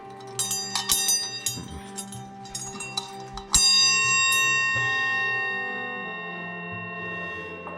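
A ringing old boxing ring bell struck repeatedly in quick clangs, then one final strike left to sustain and slowly fade, bright and close.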